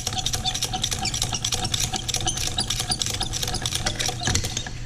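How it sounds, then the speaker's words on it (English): Hand pump on a press used to couple a 2 1/2 inch hose, working in a quick, steady mechanical clatter of ratcheting strokes, close and continuous with no talk. "And then we'll pump it back down."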